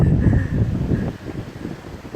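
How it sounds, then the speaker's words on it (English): Steady wind blowing across the microphone, a low rumbling whoosh that swells and eases over a couple of seconds, with no voices. "Yes, very windy"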